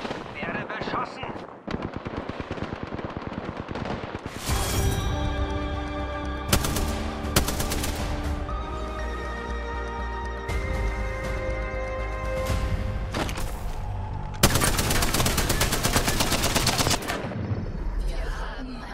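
Gunfire in Apex Legends Arena mode, dense bursts of automatic weapon fire crackling loud and close, broken by short pauses and sharp single shots, with game voice lines mixed under the shooting.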